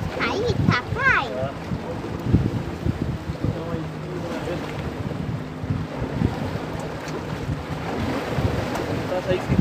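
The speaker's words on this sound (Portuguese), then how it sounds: "O mar tá meio agitado, galera." Rough, choppy sea on a fishing trip off Florianópolis, with constant wind buffeting the microphone and waves washing against the boat, a steady loud roar beneath bursts of nearby talk.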